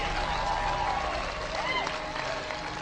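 An audience at a motivational speech breaks into sustained applause for an old man, a continuous roar of clapping with crowd noise and a voice carrying over it.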